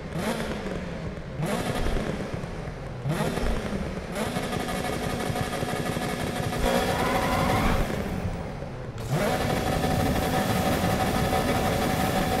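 Volkswagen Golf engine in Need for Speed 2015 revving hard in repeated climbs, dropping briefly between pulls and then surging again, loud and continuous with no voices.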